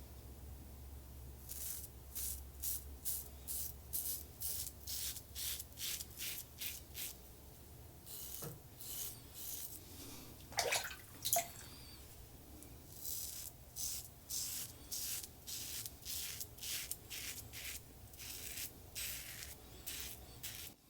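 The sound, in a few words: aluminum safety razor shaving a head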